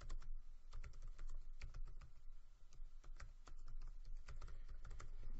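Keys clatter steadily on a computer keyboard as a recording title is typed, a quick, close, fairly quiet run of clicks with short pauses and no voices.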